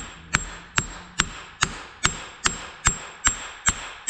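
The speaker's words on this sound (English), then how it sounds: "Give it some gentle taps until we hear that thing bottom out" Sharp metallic hammer taps seating a CV axle on a Ford Escape strike in a steady rhythm, about ten evenly spaced blows, each ringing briefly against quiet background.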